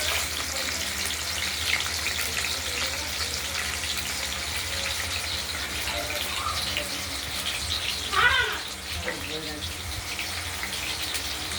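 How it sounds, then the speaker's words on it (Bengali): Paneer cubes fry in hot oil in a wok, a steady close sizzle and crackle that runs throughout with a brief louder spatter near the end. "এবার কড়াইয়ের তেলটি গরম হয়ে গেছে, কেটে রাখা পনিরগুলো হালকা ভেজে নেব।"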